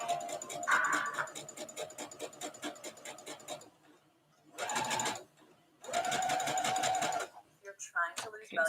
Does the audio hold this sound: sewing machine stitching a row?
yes